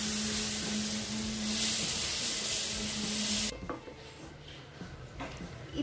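Paneer curry being stirred in a hot pan, a continuous sizzling scrape with a steady hum that cuts off abruptly partway through, leaving faint clinks and rustles.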